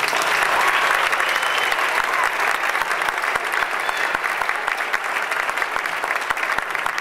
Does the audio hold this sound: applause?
yes